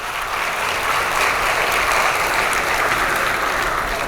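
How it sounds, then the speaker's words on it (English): A conference audience at a cloud community event claps steadily and densely throughout, a broad even roar of many hands with no voices on top. "So clap everyone, please."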